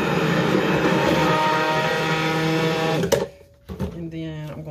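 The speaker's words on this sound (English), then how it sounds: "we're going to buzz the blender" A blender whirs through a fragrance oil mixture with a steady, loud, high-pitched motor buzz for about three seconds, then cuts off, leaving faint clatter.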